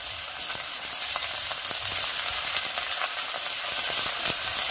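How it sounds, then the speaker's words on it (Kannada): Honagane greens with green chillies sizzle steadily in a hot pan while being stirred, giving a close, continuous hiss broken by scraping stir sounds. "ಈಗ ನಾನು ಸೊಪ್ಪನ್ನು ಹಾಕ್ತಾ ಇದ್ದೀನಿ."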